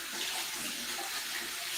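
A kitchen tap runs steadily for a moment while hands are washed, a close, continuous hiss of flowing water with no voices.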